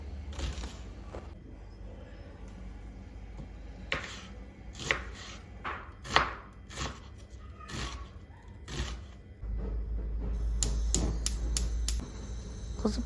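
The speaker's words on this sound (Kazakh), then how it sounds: "Пиязды өте майдалап тураймыз" An onion is finely chopped with a knife on a board for dolma, a series of crisp, irregular thuds with quiet pauses between strokes, close and fairly soft against low background noise.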